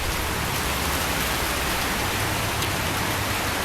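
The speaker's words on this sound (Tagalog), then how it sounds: "Nabasa na kong ulan." Steady rain pours outdoors, a dense, even hiss that runs unbroken from start to finish with no voices.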